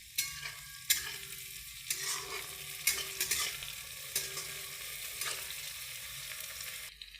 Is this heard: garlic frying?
yes